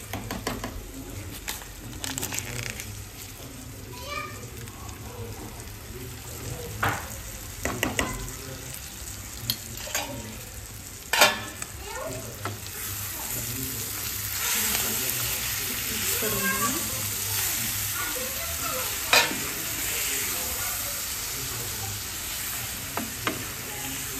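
Chicken in black masala sizzling with butter in a pan, a continuous close frying hiss broken by scattered spatula scrapes and taps as it is stirred, with a soft voice now and then.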